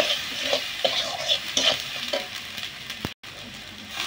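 A spoon stirs paneer curry seasoned with salt and chilli powder in a sizzling pan, with scraping strokes and soft clinks over a steady fry that briefly cuts out.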